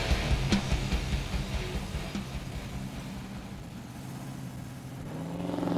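A Sport Coupe hot rod engine idles with a low rumble, with a few sharp mechanical clicks early on and a rising rev toward the end, fairly quiet overall.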